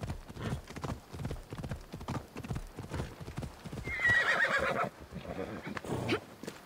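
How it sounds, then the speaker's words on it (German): Horse galloping in the video game Assassin's Creed Odyssey, steady rapid hoofbeats with a whinny partway through, heard under someone talking. "Die sitzt ein bisschen steif auf dem Pferd, ne? Beim vollen Galopp."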